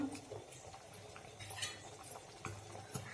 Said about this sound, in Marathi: त्याच्यामध्ये मी आता मिक्स करते गूळ